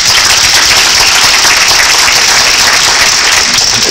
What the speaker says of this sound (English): The applause was not included in the time I got.